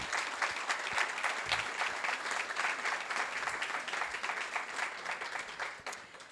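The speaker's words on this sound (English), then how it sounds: "I would like to invite all of our guests to join in a round of applause for our finalists" Sustained applause from an awards event audience honouring finalists, dense continuous clapping from many people in a hall, steady and full throughout.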